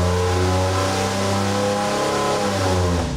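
A new car engine revs hard and loud for about three seconds, a steady throaty drone with strong layered harmonics that shift slightly in pitch as it holds high, with no talking over it.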